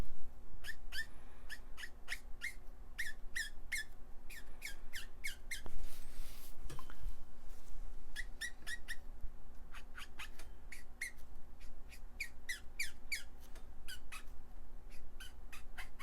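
Copic marker squeaking on paper during coloring, a run of short, sharp, high squeaks in quick irregular bursts, fairly close and clear over a quiet background, with a brief rustle partway through.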